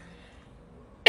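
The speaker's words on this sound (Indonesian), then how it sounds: "Sorry batuk." A single sharp cough bursts out at the very end, close and loud, after a near-silent stretch with faint room noise.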